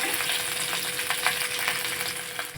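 Chicken pieces frying in a little oil, with a steady close sizzle and faint crackling over a few seconds, with no speech.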